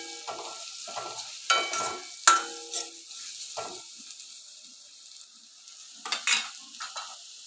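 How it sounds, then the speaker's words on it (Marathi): Onion being stirred and fried in a pan until brown, with steady sizzling broken by several scraping stir strokes of a utensil against the pan, close and moderately loud, no talking. "कांदा ब्राऊन कलरचा होईपर्यंत आपल्याला परतायचा आहे, जेणेकरून त्याचा कच्चापणा निघून जाईल।"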